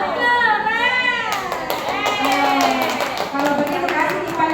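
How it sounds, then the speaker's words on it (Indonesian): A class of students claps for a classmate in a school lesson, with steady, dense clapping that starts after a second and continues under children's voices. "Tepuk tangan untuk teman kita"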